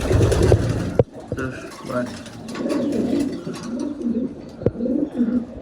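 A stray pigeon settles on a wall nearby, giving soft low cooing calls under a voice, with a couple of sharp clicks and rustles.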